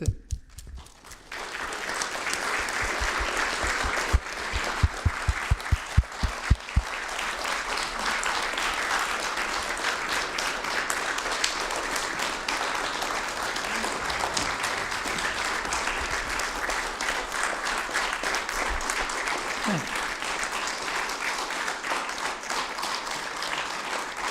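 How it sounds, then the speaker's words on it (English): A room full of people applauds at a council meeting, with dense, sustained clapping that rises quickly and holds steady for over twenty seconds. A few sharper individual claps stand out near the start. "Let us give claps to that, to all of us."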